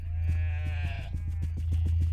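Meeps, the sheep-like farm creatures of the Oddworld: Munch's Oddysee video game, bleat in a wavering, nasal run over a steady low game hum, close and fairly loud with no talk.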